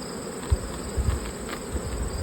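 A dense swarm of honey bees drones steadily around an open hive, with a few soft knocks from the hive being handled.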